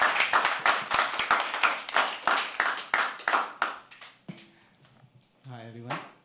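Audience at a live poetry open mic claps steadily for about four seconds, a dense, close round of applause that then fades out, followed by a few quieter moments and a brief voice near the end.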